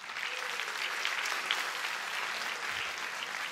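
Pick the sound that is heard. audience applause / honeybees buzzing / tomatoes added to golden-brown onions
audience applause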